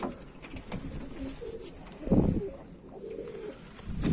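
Mardin pigeons cooing after a hawk attack, soft low repeated coos and rustling at close range, with a louder fluttering burst midway.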